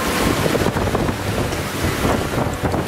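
Strong sea wind of 30 to 40 knots buffets a sailboat under way, a loud, constant roar of gusts and rushing water with heavy wind noise on the microphone and no speech.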